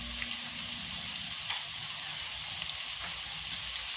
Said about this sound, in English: We don't want the onions to be turned black, so they cannot be over fried